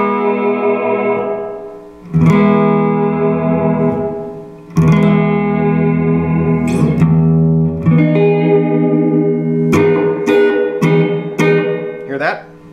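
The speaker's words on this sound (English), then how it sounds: "keep it right there for now so you can hear the sound of the verb and the decay" Guitar chords ring through a ModTone MTM-RV Mini Mod reverb pedal on its room setting, several strummed and picked chords with a lingering reverberant decay, loud and upfront with no talking.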